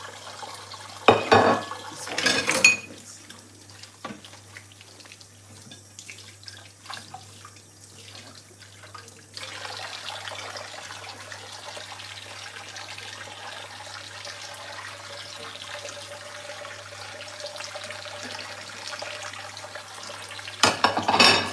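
Running tap water splashes steadily into a sink while dishes are washed, with a few louder clattering bursts near the start and end and a soft continuous wash of water between, no talking.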